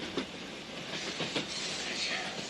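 A train rolling on rails in a radio drama of The Lady Vanishes set in Germany, a steady close rumble and hiss with faint rhythmic clicks of the wheels, alone with no voices.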